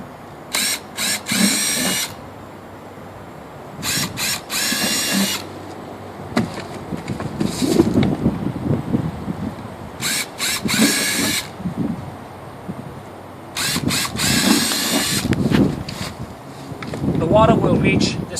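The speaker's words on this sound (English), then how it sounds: "we do want some holes to allow water to leave when there's excess water. And that's what I'm going to get ready to drill right now." A power drill bores drainage holes through a container for a hügelkultur-style pot, with several loud bursts of whirring separated by pauses and handling noise outdoors in wind.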